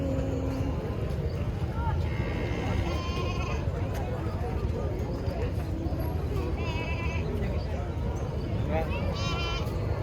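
Several goats bleat now and then amid a busy, noisy outdoor scene at an Eid al-Adha gathering with cattle, people chattering and a constant rumble underneath.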